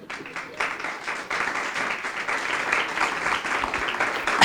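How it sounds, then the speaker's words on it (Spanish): A church congregation applauding steadily, the clapping swelling slightly louder toward the end. "Denle un aplauso a Dios."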